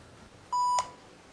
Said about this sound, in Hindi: रोज की तरह पार्वती का फोन आया।